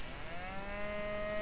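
A cartoonish cow moos in a farming minigame while being milked, a single sustained low call with steady harmonics, close and clear with a faint musical background.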